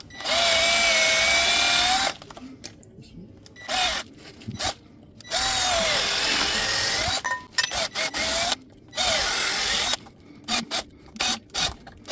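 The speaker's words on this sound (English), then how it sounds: "I'm just going to drill the rubber out so I can remove that." A power drill whines in repeated bursts, stopping and starting with brief pauses, its pitch bending as the bit bites into a rubber bushing on a 2008 Jeep Grand Cherokee front differential mount.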